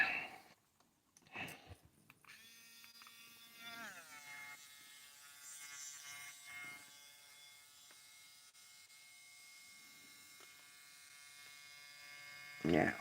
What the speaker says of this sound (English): Let me grind that off for you.